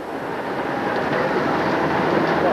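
Studio tour tram rolling along, a steady broadband rumble with wind and wheel noise that swells slightly louder toward the end, no talking heard.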